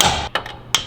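A hammer strikes a pry bar to pop plastic alignment keepers from the front end of a 2020 Duramax, giving two sharp metallic taps after a brief scraping rush, close and clear.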